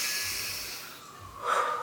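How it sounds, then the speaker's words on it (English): After crying, a person takes a deep, shaky breath: a long, close, hissing inhale that trails off, followed by a brief, sharper snort-like exhale. "You take a deep breath."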